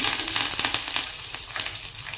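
Dried red chillies crackle and sizzle in hot oil for a tempering, a dense, steady frying hiss with small popping bursts throughout, close and fairly loud, no voices.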